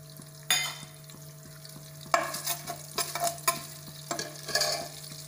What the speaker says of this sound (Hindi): इसमें हम 3 ठुक लौंग और जीरा डालेंगे।